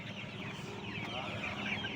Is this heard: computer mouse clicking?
no